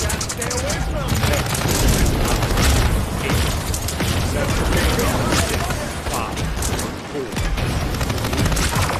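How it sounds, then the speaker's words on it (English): Dense, loud gunfire and explosive bursts from the PC game Paladins, continuous and busy throughout with game noise layered over it. "They're firing on me."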